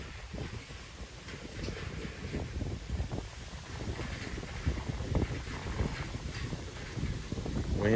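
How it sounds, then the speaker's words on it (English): Gusty wind buffets the microphone outdoors, a continuous rough rumble with uneven surges that builds toward the end, with no voices. "Windy today."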